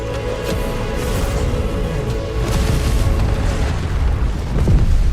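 A giant fireball explodes in the Final Fantasy XVI Rising Tide DLC Leviathan boss fight, a loud sustained booming rumble with sharp bursts, swelling louder toward the end.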